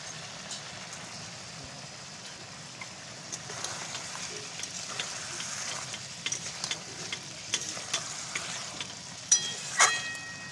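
Pieces of rohu fish frying in hot oil and spice paste, a soft steady sizzle with scattered pops and crackles that build toward the end, with a few sharper utensil clinks near the close.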